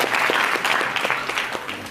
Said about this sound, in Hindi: ताली में जाइए एक बार